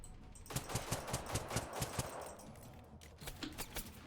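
Rapid bursts of gunfire from enemies firing at a church in the video game Generation Zero, a steady run of sharp automatic shots that pauses briefly and then resumes, loud and close with no talking.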